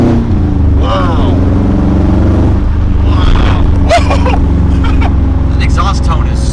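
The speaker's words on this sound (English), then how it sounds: "The exhaust tone is so different. It sounds so good." Subaru GC8 exhaust fitted with a test pipe, droning steadily and loud throughout while the car drives, with people talking over it.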